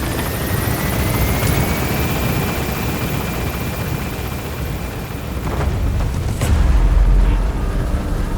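A helicopter lifts off and climbs away from a hot zone in Metal Gear Solid V, its loud steady rotor roar filling the scene and swelling near the end with a deep rumbling surge.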